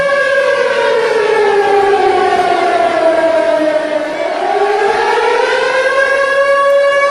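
An air raid civil defense siren wails loud and close in Ukraine, its steady rising and falling tone dipping in pitch midway before climbing again, continuous throughout.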